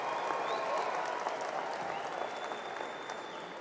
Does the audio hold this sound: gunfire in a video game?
no